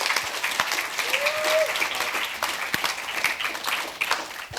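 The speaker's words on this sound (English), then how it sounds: "We are going to do big claps for you" An audience gives steady, dense applause indoors, many hands clapping together at even loudness through the whole stretch, with a brief voice rising faintly within it.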